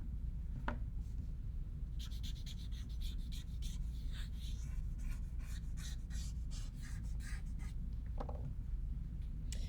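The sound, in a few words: pencil drawing being erased with an eraser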